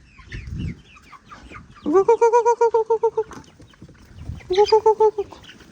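A hen cackles loudly in two rapid bursts of repeated clucks, close by, with quieter rustling and faint background noise in between.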